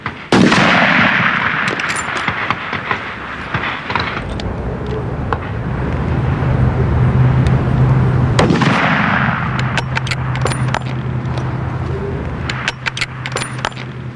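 A rifle fired at a shooting range, with a sharp loud report near the start followed by a booming echo, and later sharp clicks and a second burst of noise.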